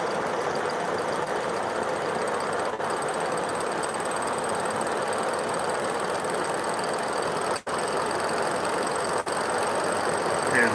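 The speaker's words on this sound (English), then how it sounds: "Nice little engine." A small engine runs fast and shakes the table it sits on, producing a steady, close buzzing drone with dense mechanical noise that barely varies and carries no speech.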